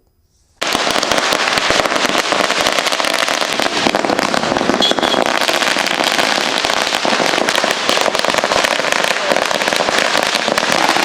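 Congress party workers set off a long, loud, continuous string of firecrackers outside the district Congress office in Chikkaballapur to celebrate a by-election victory. The dense crackling bursts in after a brief silence and keeps going.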